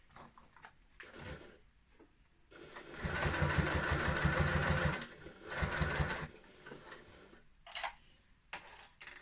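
A sewing machine stitches a cut-and-sew fabric bag in two runs, a longer steady whirring burst followed by a shorter one, with small clicks and handling noises of fabric and clips around them.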